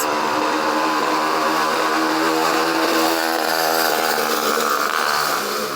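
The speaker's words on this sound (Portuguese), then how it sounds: "Vou repetir que passou uma moto." A motorcycle passes close by with a loud, steady buzzing engine drone that fills the whole stretch and eases off slightly at the end.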